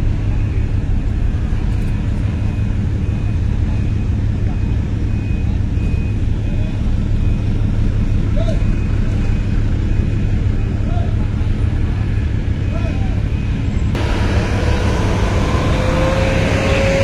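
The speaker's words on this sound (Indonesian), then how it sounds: "masih banyak kendaraan pribadi turun dari kapal Botlink 3" Private cars roll off a ferry at Bakauheni port in a continuous loud rumble of engines and traffic, with a steady low drone and occasional passing vehicles.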